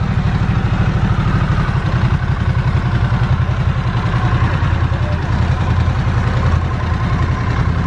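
A 2022 Harley-Davidson Low Rider S motorcycle engine rumbles steadily and loudly on a ride, a constant low, throbbing drone with wind noise, with no talking.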